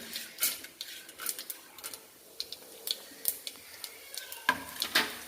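Mustard seeds, urad dal and chana dal frying in hot oil for sambar rice, with a steady soft sizzle and sharp irregular pops and crackles close by.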